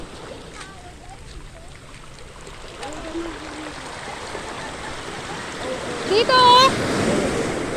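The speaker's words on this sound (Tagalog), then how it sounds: "Bakit parang ang lakas ng alon?" Strong ocean waves roll and wash at a beach in Quezon, making a steady broad roar with wind buffeting the microphone, while people talk and exclaim nearby.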